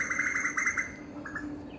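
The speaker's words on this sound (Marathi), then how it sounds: "आणि बघा पक्ष्यांचा आवाज येतोय" Small birds chirp and tweet in quick, bright bursts a little way off in the morning, over a quiet, steady outdoor background.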